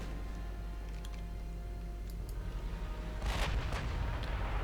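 Battleship main guns firing in the naval strategy game Ultimate Admiral Dreadnoughts: low booming gunfire over a constant deep rumble, with a louder cluster of shots toward the end, no talk.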